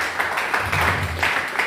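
A church congregation claps during a Sunday service, giving a steady, diffuse wash of many hands with light rhythmic swells. It plays alone at moderate loudness, with a faint low hum underneath.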